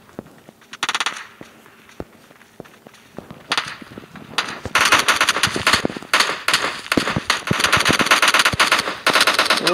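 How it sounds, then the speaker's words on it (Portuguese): Gunfire in PUBG: a few sparse, distant shots, then dense rapid automatic bursts that crackle close and loud for the last five seconds, with no talk. "Tem atirando em mim, tá atirando em mim, tá atirando em mim."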